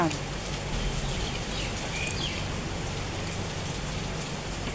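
Steady rain falls and patters on a surface, a constant wash of drops with no breaks.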